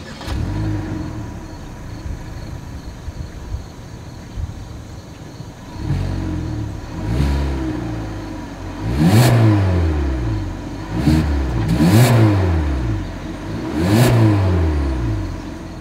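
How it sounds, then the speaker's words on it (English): A 2023 Kia Forte idles with a steady low exhaust drone, then its engine is revved about four times in rising and falling bursts, close and loud with no talking. "and here's the exhaust clip."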